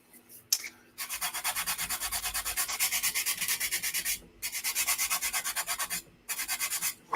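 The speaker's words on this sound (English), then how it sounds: "You can see the difference here as I'm sanding this." Close, steady back-and-forth sanding strokes rasp rhythmically in long runs over primer on plastic, pausing briefly twice before resuming, with no talking.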